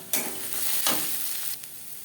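Onion, green chillies, dried red chillies, five-spice seeds and turmeric fry in a kadai, a soft sizzle with a couple of sharp bursts as ingredients hit the hot oil, fairly quiet and with no talking.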